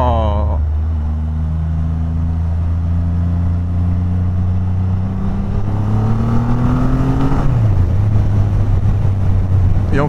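A Triumph Rocket 3 three-cylinder motorcycle engine pulls hard under acceleration, its steady low drone rising in pitch through a long run before a shift drops it back, loud and continuous with a voice talking over it.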